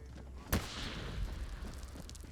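A single sharp grenade blast in Arma during an OFCRA Estonia versus Russia PvP match, bursting loud and close, then fading into a rumbling tail with faint background noise.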